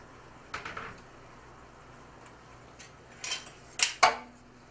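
Pistachio salmon pasta is tossed in a pan, giving scattered soft clinks and scrapes of utensil against metal, a few louder knocks near the end, with no talking.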